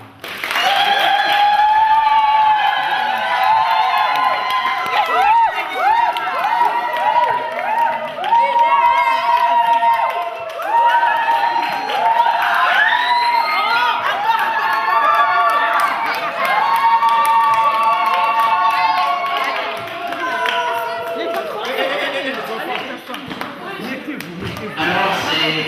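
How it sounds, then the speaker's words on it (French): Sustained applause fills a reverberant Catholic church at a wedding, with many people clapping at once and voices and singing-like tones rising over it. "Et nous pouvons les applaudir."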